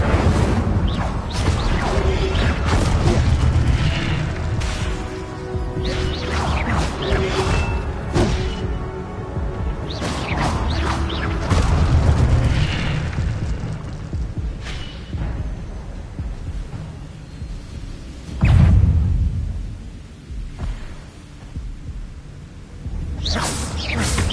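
Hogwarts Legacy gameplay with the Incendio fire spell being cast, bursts of whooshing flame and thudding impacts layered over a busy game soundtrack, recurring several times.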